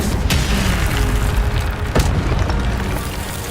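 Incendio fire spell cast in Hogwarts Legacy, a loud, continuous roaring whoosh with a few sharp bursts, filling the whole stretch with dense rumbling noise.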